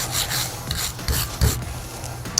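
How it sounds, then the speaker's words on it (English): A wire brush scrubs corrosion out of the openings of a brake caliper bracket on a Cadillac, a series of rough, rasping strokes close to the microphone with no talk. "You can either use a wire brush or take it over to a wire wheel. I just like using a wire brush."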